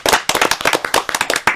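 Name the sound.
audience applause at a concert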